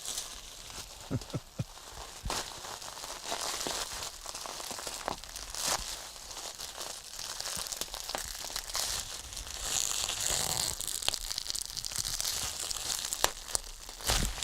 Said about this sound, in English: it's going to take me the rest of the show to unbox this or unwrap it